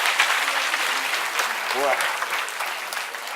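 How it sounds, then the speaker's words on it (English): An audience at a science circus show bursts into sustained applause, a dense wash of clapping with a voice briefly exclaiming over it. "Let's give them all a round of applause."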